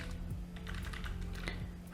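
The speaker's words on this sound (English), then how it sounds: "So we will type a code here" Someone types code on a computer keyboard, giving a steady run of quick, close key clicks with no talking.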